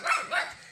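Dogs bark in a quick pair of yips, the two barks coming close together, fairly loud and near, with no talking over them.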